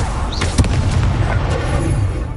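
A fire spell, Incendio, cast in the Hogwarts Legacy video game: a loud, dense whoosh and roar with a sharp burst near the start, sustained throughout.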